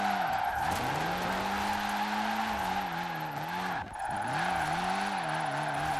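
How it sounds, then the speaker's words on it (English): A lightweight sports car in Forza Horizon 4 drifts with all-wheel drive, its engine holding a steady high drone while the tires skid continuously and loudly. The engine briefly dips and recovers partway through, with no talking. "all-wheel drive drifting in this thing is an absolute breeze"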